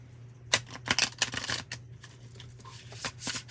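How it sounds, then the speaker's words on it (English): New playing cards being shuffled close up, a burst of rapid crisp riffling and snapping, then a pause and a few softer flicks, with no talking. "I don't usually shuffle my cards like this,"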